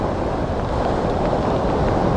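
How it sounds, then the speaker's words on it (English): Sea waves wash onto the coast at Freshwater East on the Wales Coastal Path, a steady close hiss and rumble of surf with some wind noise and no talk. "there's waves"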